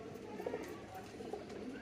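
A lost, hungry pigeon coos softly at a farm, low rounded coos repeating faintly against steady background noise.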